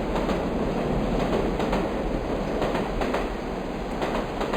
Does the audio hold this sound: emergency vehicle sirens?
no